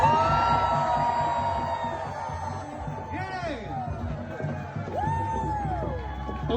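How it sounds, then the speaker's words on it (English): A festival crowd cheers and whoops with flags and signs raised, a loud continuous roar of many voices with rising shouts and whistles. "Let's get the flags up. Let's get the signs up. We want to hear you cheer."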